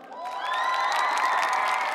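A science concert audience cheers and shouts together, a loud sustained crowd roar with rising whoops and squeals running through it for about two seconds.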